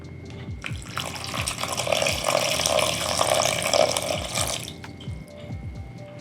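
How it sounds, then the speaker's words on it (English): A cup of water is poured over fresh raspberries and white sugar, a continuous splashing pour lasting several seconds, close and clear, with no talking over it. "Then you're gonna add 1 cup of water."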